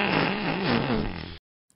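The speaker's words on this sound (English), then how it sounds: "The sound of a fart is created by the vibrations of the anal opening." A single fart, a buzzy, fluttering rasp lasting just over a second at moderate loudness, ending abruptly into silence, with no talking.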